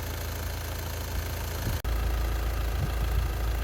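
A 2.0 TDI diesel car engine idles while warming up, a steady, low rumbling clatter, close and continuous, broken only by a brief click partway through.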